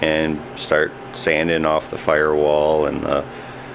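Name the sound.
garage space heater running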